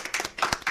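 Brief scattered hand clapping from a conference audience welcoming panel speakers at a public-private cooperation session, a few distinct claps rather than full applause, moderately close.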